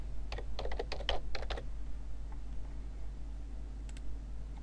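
Typing on a computer keyboard while editing a UML sequence diagram in MagicDraw: a quick burst of close key clicks in the first second and a half, then a steady hum with two more isolated taps near the end.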